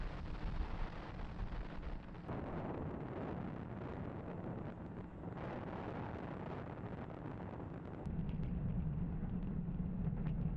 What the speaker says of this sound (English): Falcon 9 has successfully lifted off.